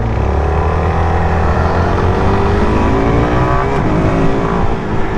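A 2025 Suzuki DRZ4SM motorcycle engine roars loudly and steadily as the clutch is let out, with a harmonic drone rising in pitch and no break.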